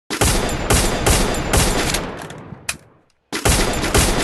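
Rapid gunfire in a shooting video game, loud repeated bursts of shots close together, a short silent gap, then another burst resumes.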